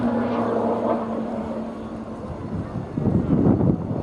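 A Tutor training aircraft flying a display at RNAS Yeovilton International Air Day, a distant droning engine with a steady tone that fades, then a louder rushing burst of wind and engine noise near the end.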